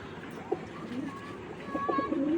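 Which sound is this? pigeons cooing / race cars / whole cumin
pigeons cooing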